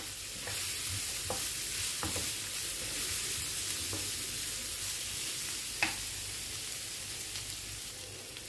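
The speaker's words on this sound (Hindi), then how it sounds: "इसको अच्छा सा हम 1 या 2 मिनट के लिए इसको भून लेंगे" Tawa chicken masala with crushed black pepper fries steadily in a pan, a continuous close sizzle with a few scattered louder spatters and stirring scrapes, no voices.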